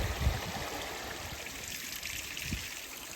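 Water trickles into a small brook in an outdoor countryside setting, a soft, continuous babble heard close and fairly quiet, with no voices.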